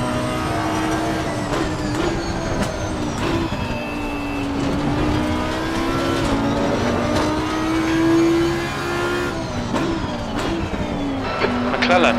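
A GT3 race car engine in the Assetto Corsa Competizione sim racing game droning steadily at high revs, with pitch rising and falling through gear changes on the Imola circuit, while voices talk over it.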